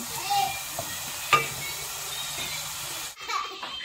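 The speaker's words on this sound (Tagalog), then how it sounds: "Nagluluto na si Daddy, guys. May giniling pala yun." Ground meat (giniling) sizzles steadily in a pan as Daddy fries it, a constant close hiss with a brief utensil clink partway through before the sound cuts off sharply near the end.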